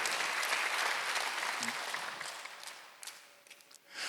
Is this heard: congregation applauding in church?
yes